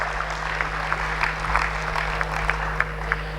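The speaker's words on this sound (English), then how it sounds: "Big round of applause, ladies and gentlemen, for her" A hall audience applauds a scientist being congratulated at a formal ceremony, the clapping moderately distant and steady with scattered sharper claps standing out over a low constant hum.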